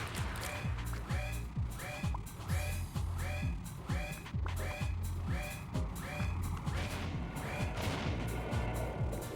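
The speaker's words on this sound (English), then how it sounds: "Yeah, I heard him explode." Enemy blowing up in the bug-themed shooter game Buck Bumble, amid a dense run of loud, rhythmic blasts and bursts over a droning game soundtrack with steady pulses, continuous for the whole stretch.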